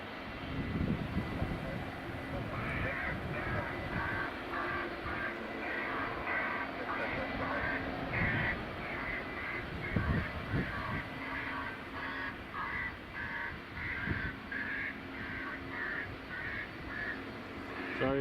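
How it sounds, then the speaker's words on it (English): An airport bird scarer broadcasts repeated crow calls from a ranger vehicle at Edinburgh Airport, a rhythmic series of harsh caws over the low drone of aircraft engines, with occasional talking mixed in. "It's the bird scarer you can hear from the Ranger vehicle."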